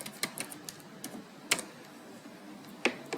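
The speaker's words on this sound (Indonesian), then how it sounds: "misalkan di sini saya mau mengetik" Typing on a computer keyboard, a quiet run of irregular key clicks with a few sharper, louder strikes standing out, close by with no talk over it.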